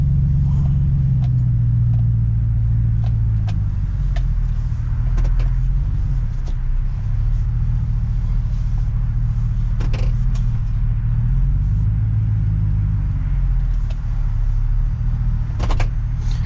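A Harley-Davidson motorcycle fitted with a Black Widow exhaust idling at zero throttle: a loud, steady, deep low rumble with an uneven pulsing note and a few faint clicks, running the whole time.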